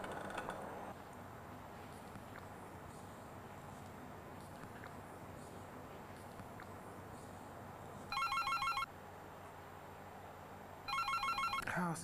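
An indoor telephone rings twice, each electronic trill lasting about a second, after a long stretch of quiet room tone with faint shuffling.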